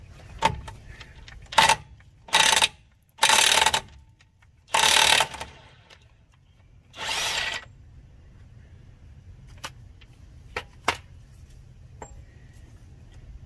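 A ratchet with a 32 mm socket clicks in several short, loud bursts while working on the suspension of a 2012 Subaru Legacy, followed by a few isolated metallic ticks near the end.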